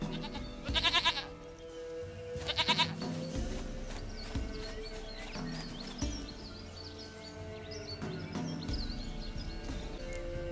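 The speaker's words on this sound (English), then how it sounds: "Goat of mine, dearest, sweetest goat." A goat bleats in The Witcher 3, with two loud, wavering bleats in the first seconds over a busy game ambience of birds and murmuring sound, and fainter calls later on.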